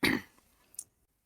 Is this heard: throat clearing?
yes